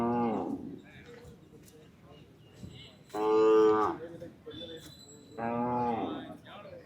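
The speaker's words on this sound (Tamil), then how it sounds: "மாடு அது வண்டியில் இருக்குது" Cattle at a cattle market give three moos: a short one at the start, then two long, loud, close lowing calls a couple of seconds apart, with faint background bustle between them.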